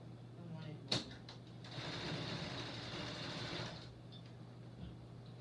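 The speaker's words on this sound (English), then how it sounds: "We are 1/4 down the sewing." A sewing machine stitches beautiful fabric for window panels, a steady mid-to-high whir running for about two seconds after a sharp click, with a low hum beneath and quiet handling sounds around it.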